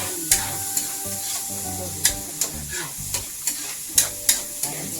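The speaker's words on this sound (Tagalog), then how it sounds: "Igisa natin sa munggo." Mung bean stew being sautéed in a pan, with a steady frying sizzle under repeated sharp clinks of a utensil scraping and stirring against the pot, close and fairly loud.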